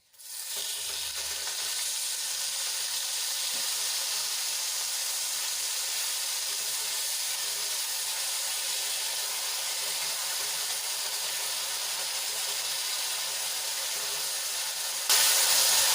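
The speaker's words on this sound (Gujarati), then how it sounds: "ડુંગળીને સરસ રીતે તેલમાં મિક્સ કરીને આપણે એને થોડી વાર માટે સંતળાવા દઈશું" Grated onion sizzles and fries in hot oil with star anise, cloves and a pinch of asafoetida, a steady, close, bright hiss that holds evenly for the whole stretch, with no voices.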